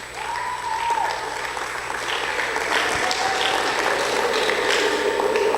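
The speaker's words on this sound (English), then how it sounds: "I want you to give yourself a round of applause, please." Sustained audience applause at a student debate event, an even wash of clapping hands from a crowd in a room, with a faint steady hum underneath.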